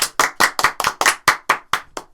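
A short burst of about ten sharp, evenly spaced hand claps for Cillian, close and crisp, each one dying away quickly before the next.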